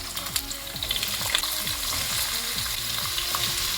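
Potatoes fry and stir in a hot pan with curry leaves while a masala potato fry is being made, giving a loud, steady close sizzle with scraping stirs and no voices.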